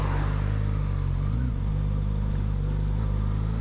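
A 2021 Suzuki GSX-S1000 motorcycle accelerates on the road with a continuous, loud engine roar mixed with heavy wind rush, holding steady with only a slight dip partway through.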